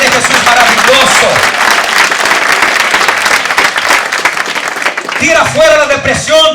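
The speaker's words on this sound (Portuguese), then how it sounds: "vamos a aplaudir a este Jesús maravilloso" A church congregation applauding during a sermon, loud sustained clapping mixed with shouting and voices, with the preacher speaking again near the end.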